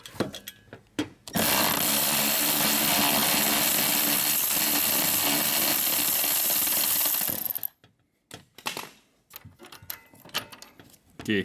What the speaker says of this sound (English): now let's undo those two 12mm bolts